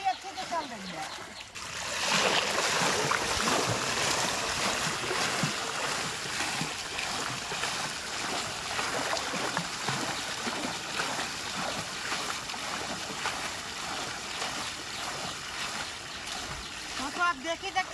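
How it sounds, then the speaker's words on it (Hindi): A homemade amphibious bicycle pedalled across water churns up continuous splashing and trickling, close and steady for the whole stretch, with a voice talking over it. "तो आप देख ही सकते हैं कितना अच्छे से ये साइकिल चल रही है पानी में।"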